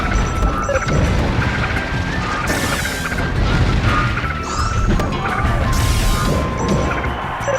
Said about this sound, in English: Nice down smashes, nice dash attack.